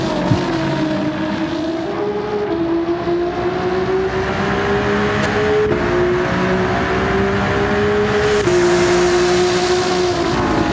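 Race car engines of an Alfa Romeo Giulia and a Lexus LC500 battling at Spa in Gran Turismo 7, a continuous loud droning engine note with gradual pitch rises and a sharp shift near the end, no talk.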